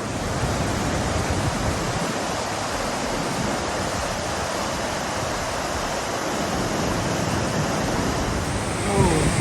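Mountain water pouring down into Mahodand lake in Kalam, Swat, a steady broadband rush like a stream or small waterfall, continuous and fairly loud throughout with no pauses.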